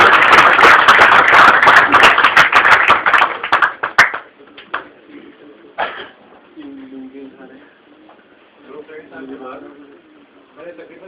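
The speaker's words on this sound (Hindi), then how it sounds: "आप इन लोगों का हौसला अफजाई करें तालियों के साथ" Audience applause at a business presentation: a loud, dense burst of clapping for about four seconds that ends with a few scattered claps, followed by someone speaking.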